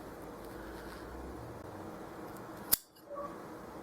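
A single sharp snip of scissors cutting through a bundle of feathers for a no-sew tutu, close and brief after a quiet stretch of room noise.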